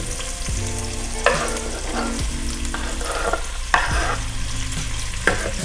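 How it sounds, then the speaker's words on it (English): Onions fry in rendered bacon fat in a Dutch oven, making a steady close sizzle and hiss with periodic stirring scrapes and small knocks, and nobody speaks. "we're gonna use that to cook our onions"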